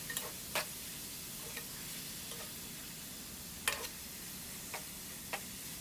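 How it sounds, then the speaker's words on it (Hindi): Mutton liver fries in oil over a medium flame, a quiet steady sizzle broken by a few sharp spatula taps and scrapes, heard alone at low level. "ऑयल में फ्राई करेंगे कलेजी को, मीडियम फ्लेम पे पकाना है"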